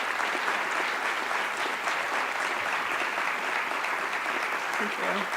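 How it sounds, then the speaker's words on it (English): Audience applause for distinguished students at a presentation event, a full, even roar of many hands clapping steadily throughout, with a brief voice surfacing near the end. "if we could have a round of applause for our student distinguished."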